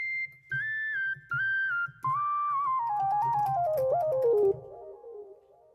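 A Yamaha PSR keyboard plays its soft worship pad patch: a sustained melodic line over low bass notes, its phrases steady and moderately loud, with a delay effect that makes the notes repeat and fade at the close. No one speaks.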